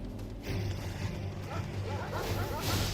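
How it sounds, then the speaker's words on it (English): Angry dogs bark and yip in Final Fantasy XVI, a steady run of barks under game music and ambience at moderate volume. "We managed to piss off some doggos anyway."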